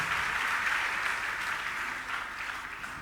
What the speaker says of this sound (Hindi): एक बार जोरदार तालियों से अरविंद भाई का सम्मान करें।